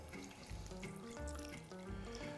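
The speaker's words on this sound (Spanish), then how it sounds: "Vale, pues esto yo creo que necesita un poquito de agua." Water running and splashing into a pan of chicken stew, pollo a la riojana, a steady continuous pour with bubbling, heard alone at moderate volume.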